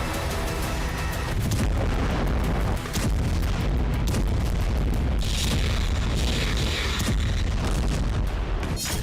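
Bomb explosions strike Gaza in a news report, a dense, continuous barrage of loud booms and blasts with sharp cracks layered over a constant heavy rumble, with no pause across the whole stretch.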